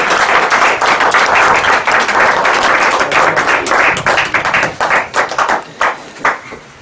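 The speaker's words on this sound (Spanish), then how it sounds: "Un aplauso para Carla." An audience applauds Carla at the presentation of Os Ninguéns, a loud, sustained burst of clapping that thins into scattered claps near the end.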